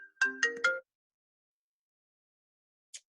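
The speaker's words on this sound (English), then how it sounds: "I'm getting phone calls right now." A phone ringtone from an incoming call plays a short rising three-note electronic chime, clear and close in an otherwise silent room, followed seconds later by a brief faint blip.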